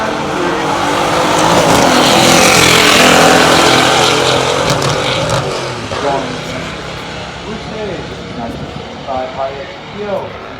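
A 1968 Hurst/Olds with a 390 horsepower 455 engine and a 1965 Pontiac GTO Royal Bobcat drag race on a pure stock strip, a loud engine roar that swells and then fades into distant crowd noise and announcer chatter.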